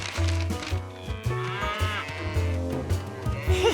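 Cartoon cows mooing and lowing in a farm setting, several deep calls in a loose repeating rhythm, fairly close, with other animal bleats and light background music underneath.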